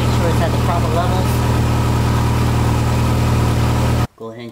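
A car engine idles steadily, loud and close, with a constant low drone that cuts off abruptly near the end, followed by a short faint stretch.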